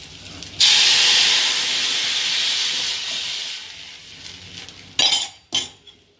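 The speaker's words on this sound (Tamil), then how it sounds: "இந்த கரைச்ச ரசத்தை இதில் ஊற்றிடலாம்." Rasam poured into a hot tempering of mustard seeds, cumin, curry leaves and asafoetida, bursting into a loud hissing sizzle that slowly fades, followed by a couple of sharp pan clatters.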